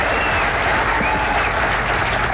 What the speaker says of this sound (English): Do I get any applause for that?